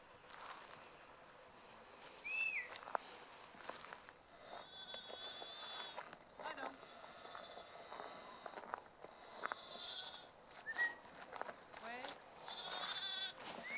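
Sheep and lambs bleat repeatedly at close range amid shuffling footsteps and hoof movement during a catch in a pen, with people talking in between.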